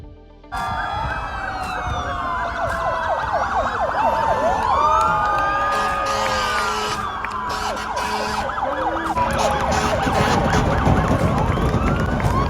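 Fire brigade and police car sirens lead a line of vehicles circling a race track before a race start; loud, continuous overlapping wails rise and fall throughout, with engine noise underneath and no talk.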